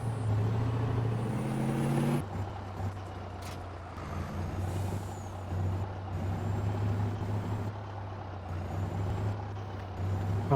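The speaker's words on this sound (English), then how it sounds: "So let's jump in the truck and get this equipment all picked up" Truck in Farming Simulator 19 running with a steady low engine drone, a sharp hiss of air brakes releasing early on, then continued rumbling as it drives, close and without talk.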